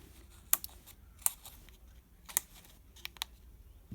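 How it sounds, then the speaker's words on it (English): Small scissors nick the edge of a paper page in a quiet craft session, giving several short, sharp snips spaced irregularly with soft handling rustle between them. "I just kind of put my scissors on there and then pulled them out"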